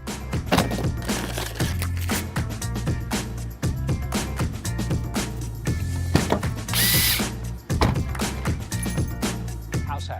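A power drill fitted with a brush adapter spins inside a dryer exhaust vent hose, whirring loudly in repeated bursts with brief stops, plus ratcheting clicks and a hissing scrape as the brush works the duct.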